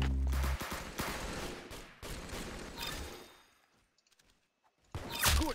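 Gunfire in a video game: a burst of loud, dense shots and impacts in the first half, fading to near silence, then a sharp loud blast near the end.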